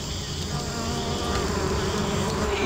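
A steady swarm of bees buzzes in the video game Amerzone, a continuous dense drone with no talk over it.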